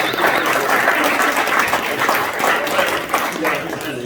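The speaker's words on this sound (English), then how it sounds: "Let's give all of our evaluators a round of applause." Toastmasters meeting audience applauding its evaluators, a sustained burst of group clapping at fairly close range with some voices mixed in underneath.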